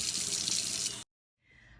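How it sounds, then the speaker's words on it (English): Warm tap water runs strongly into a sink for handwashing with soap, a loud close rush that cuts off abruptly, then a faint brief trickle after a moment of silence. "Make sure the water is warm, use soap, and scrub for 20 seconds."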